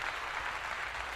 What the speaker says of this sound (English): Can I give another damn applause for that?